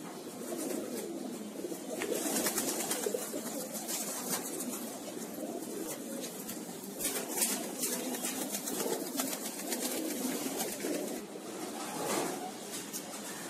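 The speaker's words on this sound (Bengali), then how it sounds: "এখানে অনেকগুলো কবুতর রয়েছে।" A large flock of pigeons coos continuously at a pet owner's loft, soft overlapping calls layered into a steady murmur, fairly close with no speech over it.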